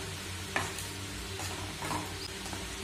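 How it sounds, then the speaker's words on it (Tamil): Muttai kulambu, an egg gravy, is stirred in a pan with a faint sizzle underneath, punctuated by a few scraping knocks of the spoon against the pan. "இப்போ இது கலந்து விட்டுட்டுங்க."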